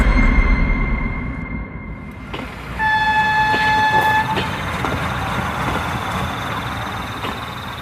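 A train rolls along the rails with rumbling wagons, then a steady horn blast sounds for a couple of seconds before the clatter carries on alone, loud and near.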